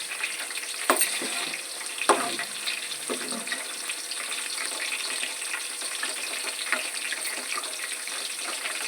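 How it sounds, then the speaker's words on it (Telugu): Onions frying in a pan, with a steady close sizzle running throughout and a few brief louder crackles or stirs near the start. "ఉల్లిగడ్డలు అయితే వేగుతున్నాయి"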